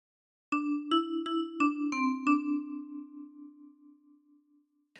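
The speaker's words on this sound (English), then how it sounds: "practice this until you end up with something that sounds like this." A phrase of Oh Susanna is plucked on a 10-key kalimba: six bright, bell-like notes in quick, even succession, the last one ringing and slowly fading alone in a quiet room.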